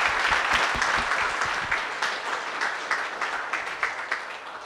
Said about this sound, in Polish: nagrodźmy bardzo pięknymi brawami.